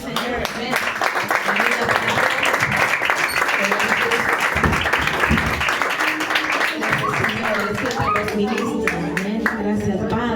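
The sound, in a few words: church congregation applauding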